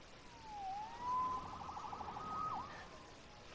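A distant siren wails with rising and falling tones over a low background rumble, fairly faint and far away.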